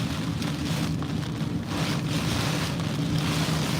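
Heavy driving rain and wind from Hurricane Francine in Louisiana roar as a constant dense wash with gusty surges buffeting the microphone, loud and unbroken, with no talk.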